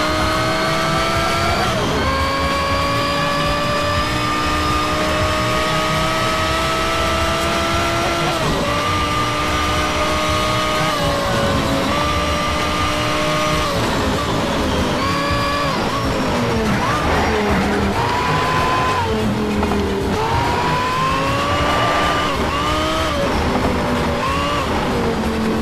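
Porsche Carrera GT racing engine in the Need for Speed Shift video game, a loud continuous high-revving whine climbing and dropping through gear shifts, with brief tire squeals.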